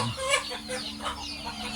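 Chickens cluck continuously and fairly close by at a Thai home where floodwater has risen into their area, their calls overlapping in a busy, steady chatter.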